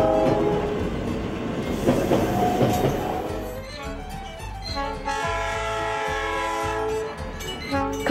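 A train rolls past close by with a loud, continuous rumble and clatter of wheels, then sounds its horn in sustained, blaring blasts near the end.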